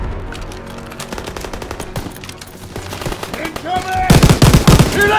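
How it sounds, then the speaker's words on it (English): Rapid machine gun bursts rattle through a Call of Duty WW2 D-Day battle, steady automatic fire under layered combat noise that grows louder and denser in the last second, with shouted voices mixed in. "Open fire! Someone get on the MG!"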